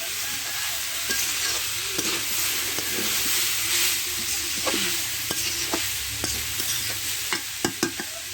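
Turnip pieces and a few prawns fry together in a pan, a dense steady sizzle with hissing steam and repeated stirring scrapes and taps growing busier toward the end, close and uninterrupted by voices.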